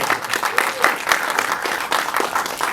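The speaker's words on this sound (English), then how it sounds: "A round of applause for Matthan Harris." Dense, steady applause from a festival audience at a Fantastic Fest 2015 film Q&A in a theater, loud and continuous throughout with faint voices mixed in.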